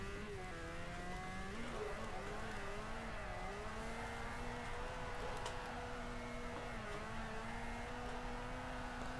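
A Mazda RX-7 FD drifting in Forza 4 holds a continuous high engine whine that rises and dips as the revs change, with a faint tire squeal through the run.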